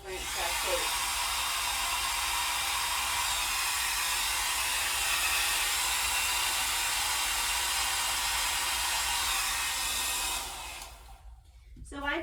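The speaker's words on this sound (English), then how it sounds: "I've just dried out the clay just a bit with the hairdryer" A hairdryer blows on a clay pinch and coil pot, a steady loud whooshing whine running nearly continuously before cutting off near the end.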